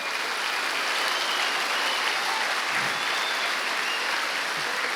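A church congregation applauds during a Sunday morning service, with a steady, dense wash of many hands clapping that holds at an even level throughout and sounds broad and somewhat distant.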